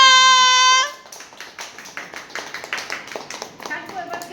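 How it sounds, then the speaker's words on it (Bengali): At a Mother's Day cake-cutting gathering, a small group claps in a rapid, steady run of hand claps after a sustained tone fades at the start. "হাততালি দাও।"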